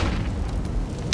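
An incendiary grenade goes off in Counter-Strike: Global Offensive as a loud, close, booming burst that fills the short moment, with no talking.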